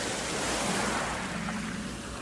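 Sea waves surging and washing continuously, a broad, loud roaring wash that stays dense and steady throughout, with no voices.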